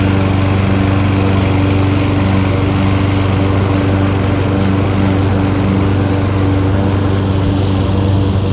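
A lawn mower runs steadily as grass is cut in a garden, its loud engine drone holding close and constant for the whole stretch with no voices.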